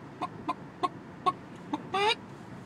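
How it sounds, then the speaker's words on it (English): A chicken in a barnyard gives a run of five short, sharp clucks spaced about half a second apart, then one longer, drawn-out squawk, fairly close and clear against a quiet outdoor background. "That sound like an old Georgia bred chicken right there pecking across the yard"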